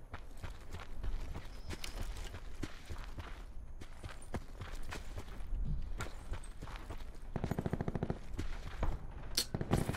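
Gunfire from the Auger DMR in Call of Duty Blackout, heard as a string of sharp shots of varying loudness, with a fast rapid burst near the end over game ambience.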